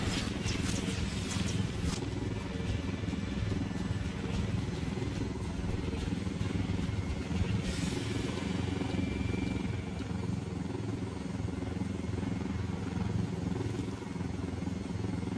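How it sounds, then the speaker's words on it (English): A helicopter flies in the video game Ghost Recon: Wildlands, a dense, continuous rotor and engine roar that stays steady and loud throughout, with no talking. "Let's take your helicopter."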